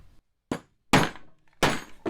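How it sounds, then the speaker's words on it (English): Hammer blows drive projector mount parts into place: three sharp, close knocks spaced roughly half a second apart, each ringing briefly before cutting off, with short silent gaps between them. "I'm going to hammer these into place"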